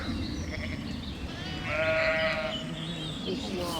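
Sheep bleat over a steady outdoor rumble, one clear wavering bleat standing out near the middle and others fainter around it.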